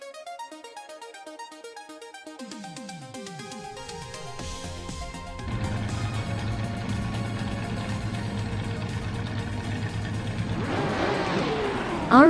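Classic prototype race cars, among them a 1971 Porsche 917 LH in the 1970 class, start a video game race at Algarve. Engines rev up from rising tones into a loud sustained roar, building steadily, with a tire squeal near the end.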